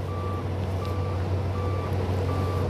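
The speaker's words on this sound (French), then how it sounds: "Le finisseur est en train de reculer, il va poser la table." An asphalt paver reversing on a road compaction job sounds its reversal alarm, a steady series of evenly spaced beeps over the low droning rumble of the heavy machine's engine.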